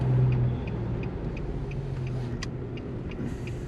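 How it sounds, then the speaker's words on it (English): A 2006 Nissan Xterra being driven, heard from inside as a steady low road and engine rumble with faint ticking and small clicks, no talk. "I need to take this for a drive and get it up to temp"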